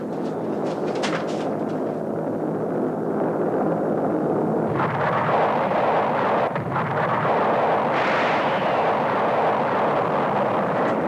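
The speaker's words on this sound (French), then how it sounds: "T'as déclenché un tremblement de terre." A cartoon earthquake rumbles as a loud, continuous roar that surges and swells, with a few sharp cracks near the start.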